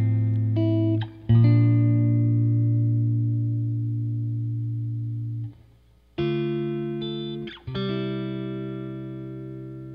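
Electric guitar run through the Logic Pro Vox amp simulator with ambient effects, long sustained chords ringing and slowly fading, struck again a few times with brief gaps between, no talking.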